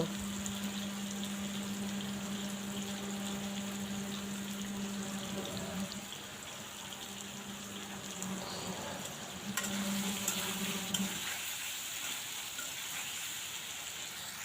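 Tender ash gourd pieces with chili and coriander powder frying in a pan, a steady soft sizzle with occasional stirring, under a faint background hum and no talk.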